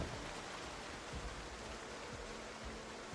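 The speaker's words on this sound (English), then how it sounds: "you can't hear anything over this fucking rain" Steady heavy rain in the zombie-survival game Project Zomboid, a dense unbroken wash of noise with no gaps, holding at a constant level throughout.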